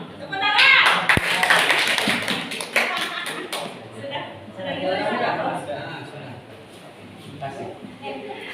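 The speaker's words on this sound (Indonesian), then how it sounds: "Tepuk tangan." Clapping from a small group at an education workshop on classroom assessment, a brief burst of sharp claps with chatter and laughter that gives way to murmuring voices.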